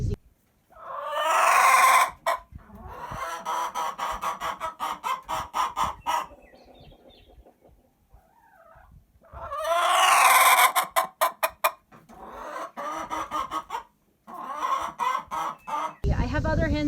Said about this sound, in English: Some of my hens, my Rhode Island Reds, they will make these frustration noises for about an hour before they lay.